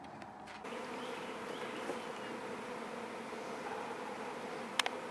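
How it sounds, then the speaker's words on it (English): A honeybee swarm arriving at a swarm trap hive on a deck, filling the air with a steady, dense buzzing of many bees all around, with one brief sharp click near the end. "And the swarm has just arrived."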